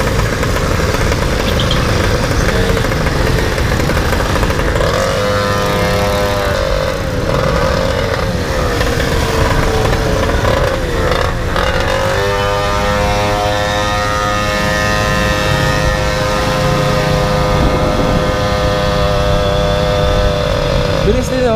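A 50cc four-stroke motorcycle engine revs in repeated rising bursts, loud and close, with idle stretches between the throttle pulls and people talking over it.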